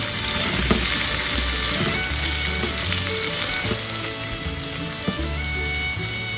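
Potato pieces sizzle steadily in a hot pan with butter, salt, pepper and green nori flakes, with repeated stirring clatter and scraping through a loud, continuous frying hiss and no talking.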